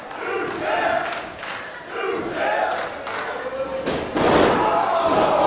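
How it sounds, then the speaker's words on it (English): A dragon screw leg whip in a live independent pro wrestling match, heavy thuds on the ring canvas amid a loud cheering arena crowd, with a commentator talking over the action. "Dragon screw leg whip."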